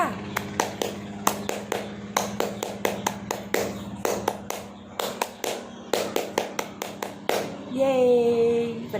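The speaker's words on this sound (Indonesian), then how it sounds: "gimana kalau misalnya kita tepuk pramuka dulu yuk biar pada semangat." A class of pupils performs the Indonesian scout clapping routine, tepuk pramuka, sharp group claps in a fast patterned rhythm of bursts and pauses, ending with a voice speaking.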